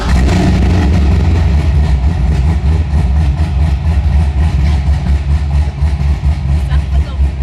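A BMW M3 engine runs loud and deep, a heavy, rumbling idle with slight revving that fills the space steadily throughout, close by and with little variation.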